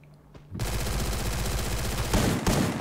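Dense, continuous gunfire from the Free Fire battle royale game during a pro-league esports scrim. Rapid overlapping bursts start abruptly and run steadily to the end, with a couple of louder volleys near the close.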